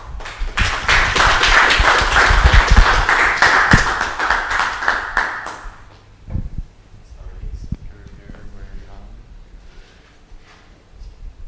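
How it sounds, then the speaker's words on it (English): Audience applause at a tech summit session: a loud, full burst of clapping lasts about six seconds and then dies away, followed by a few scattered claps, shuffling and quiet room noise. "Let's give another round of applause."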